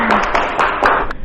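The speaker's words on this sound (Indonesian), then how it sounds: "Beri tepuk tangan untuk kelompok 3" Classroom applause for a student group after a presentation, a brief burst of scattered hand claps lasting about a second.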